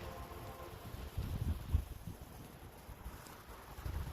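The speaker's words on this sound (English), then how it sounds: "I hear the wind." Wind blowing outdoors around a campfire, a steady low rumble of gusts buffeting the microphone, with no voices over it.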